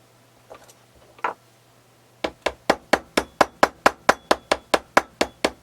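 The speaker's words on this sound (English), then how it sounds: "I shall hammer that down, I think" A couple of faint knocks, then a steady run of about fifteen sharp, ringing hammer blows on metal at an even pace, close by, hammering down a replica Anglo-Saxon gold raven.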